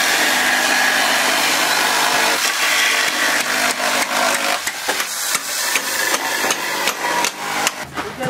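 A power saw grinds loudly, then gives way to a series of sharp, irregular impacts as it cuts through metal nails in pallet wood.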